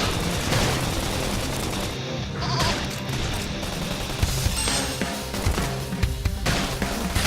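Gunfire in Xenoblade Chronicles X combat, dense continuous shooting and crashing impacts with sharp bursts toward the end, loud and busy throughout.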